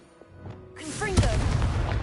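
An explosive blasting spell in Hogwarts Legacy, a single booming burst that erupts abruptly and rolls into a rumbling, crackling tail after a quiet stretch with a spoken incantation.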